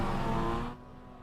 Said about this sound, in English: They're revving.